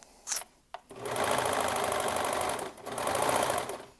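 A serger stitches a curved fabric seam in two loud, fast, steady runs, with a short pause between them and faint handling noises before it starts.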